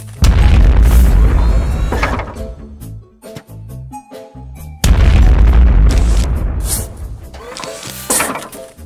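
Plant food explosions from the Plants vs Zombies video game, with the Doom Peashooter team: loud booming blasts in two heavy bursts, each fading into rumble and clatter, with a quieter gap between them.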